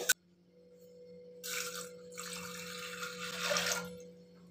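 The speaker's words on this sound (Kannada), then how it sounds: "ನೋಡಿ ಇದರಲ್ಲಿ 1 ಗ್ಲಾಸ್ ನೀರು ಹಾಕಿದ್ದೀನಿ." A glass of water pours onto toor dal in a pot in two splashy bursts over a low steady hum, growing slightly louder toward the end.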